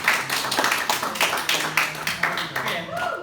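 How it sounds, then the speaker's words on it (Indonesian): Classmates clap together for a student during a public speaking class, a close, fairly loud run of rhythmic claps that holds steady for a few seconds, with a voice speaking over it near the end. "boleh teman-teman tepuk tangan dulu buat Kenzi."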